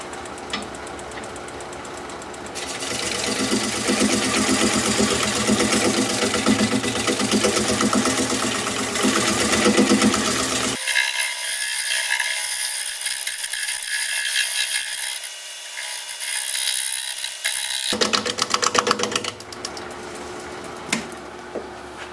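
A wood lathe turns a bowl while a shear-scraping tool works the spinning blank, giving a steady mechanical hum and rasping scrape. The cutting noise drops out partway through, leaving only high hiss for several seconds, then returns to the end.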